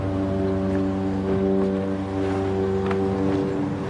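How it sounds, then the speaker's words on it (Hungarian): A boat crosses a lake with a steady droning motor hum, loud and continuous, with faint water and wind noise underneath. "Hajóval megyünk"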